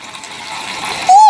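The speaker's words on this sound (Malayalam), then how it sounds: "ഇതിനകത്ത് ഫുള്ള് നമുക്ക് വെള്ളം ഒഴിച്ചു കൊടുക്കാം" Water pours and splashes into a miniature plastic toy kitchen set, a short, close gush building up and growing louder at the end, with a brief voice or squeak over it.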